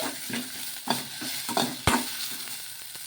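Mint leaves fry in hot oil in a pan, a soft continuous sizzle under several distinct scraping stirs and one sharp knock of the spoon against the pan, close and clear with no talking.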